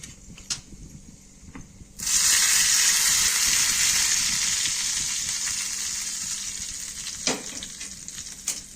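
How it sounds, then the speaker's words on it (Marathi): Mustard seed tempering hits curd chutney with a sudden loud sizzle that starts abruptly and slowly fades, preceded by a few small clinks and followed by a single utensil knock. "ह्याच्यावर नंतर मोहरीची फोडणी टाकायची"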